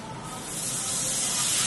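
Water poured into a hot pan of frying potatoes for mocha ghonto sets off a loud rushing hiss of steam that swells and holds steady.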